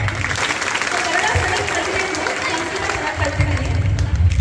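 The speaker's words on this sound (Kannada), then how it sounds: "ಸೊ ಇವರೆಲ್ಲರಿಗೂ ಒಂದು ಜೋರಾಗಿ ಚಪ್ಪಾಳೆ" Loud, sustained applause and crowd noise fill a women's college annual day celebration hall, with a steady wash of clapping and a low murmur of voices throughout.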